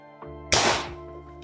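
A Sabre M20X foam dart blaster fires a Dragon dart through a chronograph, giving a single sharp, close thunk over a steady electrical hum.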